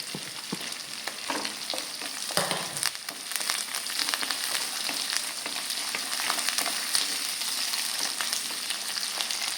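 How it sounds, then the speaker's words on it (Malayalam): Bitter gourd and carrot sauté with curry leaves in a pan for a pickle, giving a steady, loud sizzle with occasional stirring scrapes near the start, and no voices. "ജസ്റ്റ് അതിൻ്റെ ആ പച്ചമണമൊക്കെ ഒന്ന് മാറുന്നോളം വരെ നമുക്കിതൊന്ന് വഴറ്റിയാൽ മതി."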